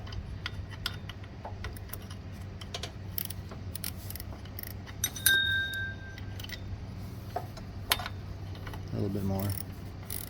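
A bolt on the clutch of a Coleman CK100-S go-kart is worked loose with a ratcheting tool, giving soft ticking clicks and small metallic clinks at close range, with a brief spoken remark partway through.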